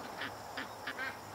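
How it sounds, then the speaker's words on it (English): Ducks quack outdoors on a calm, overcast day, four clear calls in an uneven rhythm, moderately close but soft, with no talk over them. "The ducks are totally chilling."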